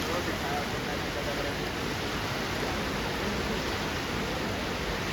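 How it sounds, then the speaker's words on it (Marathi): A steady, loud roar of the Bharangi river in flood near Shahapur, its rushing current churning continuously without a break for the whole stretch. "पाण्याचा प्रवाह इतका आहे ना"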